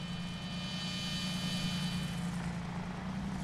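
Light aircraft engine in Microsoft Flight Simulator on a flight out of Avignon, a loud, continuous propeller drone holding steady with no breaks.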